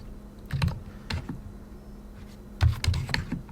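Keys clatter on a computer keyboard as a command is typed into an Arch Linux terminal, coming in two short bursts of quick close taps with a pause between them.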